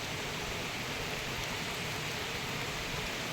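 Rain falls outdoors in a steady, dense hiss that stays even and unbroken throughout, with no voices or other sounds standing out above it.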